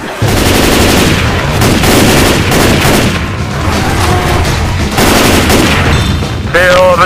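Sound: gunfire against zombies in Left 4 Dead 2 video game

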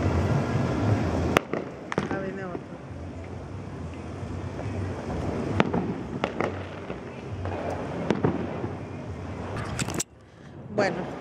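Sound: New Year's Eve fireworks exploding

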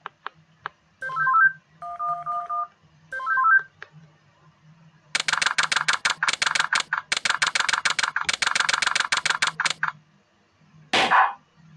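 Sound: cell phone dialing in the video game Henry Stickmin

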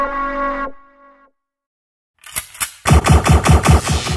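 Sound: ship firing lasers in the video game StarMade

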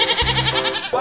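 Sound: goat bleating

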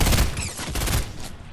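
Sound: gunfire in the video game Fortnite

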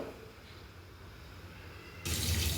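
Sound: pouring boiled rice and water into a strainer for veg biryani

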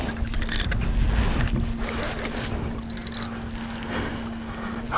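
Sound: boat motoring out while fishing

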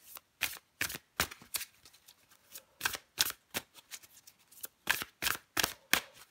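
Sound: shuffling cards for a tarot card reading

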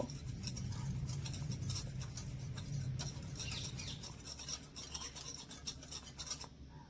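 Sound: stirring milk powder and sugar together

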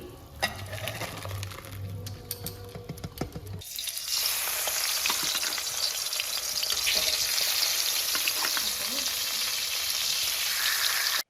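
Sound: dal poured into hot pan, frying and sizzling

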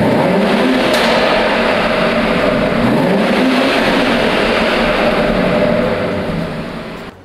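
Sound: BMW X3 M Competition SUV exhaust sound, engine revving

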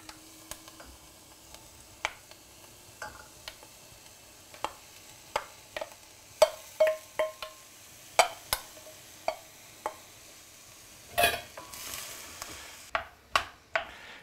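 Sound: tomatoes sizzling in pan with meatballs

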